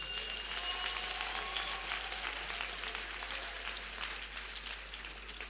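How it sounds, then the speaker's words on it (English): Applause for top achievers at a Lovedale TVET College graduation ceremony, steady hall-wide clapping from a seated audience, moderately loud and continuous, tapering slightly toward the end. "Can we give a warm round of applause to our top achievers?"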